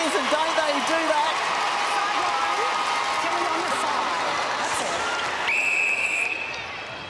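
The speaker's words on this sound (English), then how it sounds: "that crowd needs to turn those boos into cheers" At a Suncorp Super Netball minor semi-final between the Giants and the Magpies, the arena crowd cheers in a sustained roar beneath a commentator's voice, with a brief whistle near the end.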